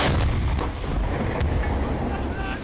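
Submarine deck gun firing shells in the Silent Hunter 5 naval game: heavy, booming reports with a deep rumbling tail, loud and close, a couple of blasts in quick succession.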